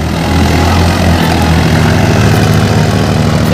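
A Massey Ferguson 7250 tractor pulling a 7-foot leveller gives a loud, close, continuous diesel rumble with a steady low throb, rising slightly in strength after the opening moment and running alone without speech.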